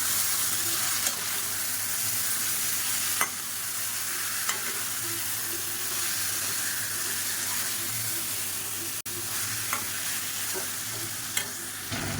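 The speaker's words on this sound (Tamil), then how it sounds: "இப்போ இந்த ஸ்டேஜில் நம்ம ஊற வச்சுருந்தா சிக்கனாக சேர்த்துக்கலாம் சேர்த்துட்டு நல்லா பரட்டி விட்டுக்கலாம்" Marinated chicken stir-frying with browned onions in a pan, a steady loud sizzle and hiss with occasional scrapes and clinks of stirring, continuous and close with no talking.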